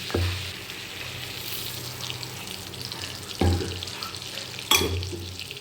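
Butter and oil heating in a pan on a home stove, giving a steady soft sizzle with three sharp clunks or taps of utensils against the pan spaced through it.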